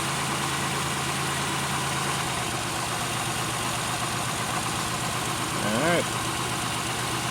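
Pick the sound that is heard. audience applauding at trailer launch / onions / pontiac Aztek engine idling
pontiac Aztek engine idling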